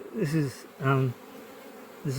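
Loud, close buzzing of a full honeybee colony in bursts, rising and falling as bees fly near, with quieter gaps between.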